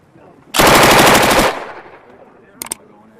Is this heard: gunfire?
yes